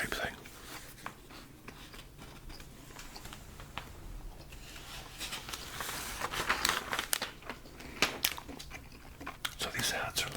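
Pages of a vintage 1953–1954 Eaton's catalog are flipped and crinkled close up, soft papery rustles and sharper turns repeating under a quiet whispering voice.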